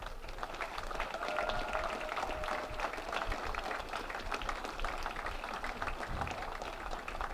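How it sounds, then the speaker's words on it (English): Sustained applause from the audience at the Enfield Athletic Hall of Fame induction ceremony, a steady wash of many hands clapping in a hall, moderately loud and continuous throughout. "I think there's enough applause left for one more round"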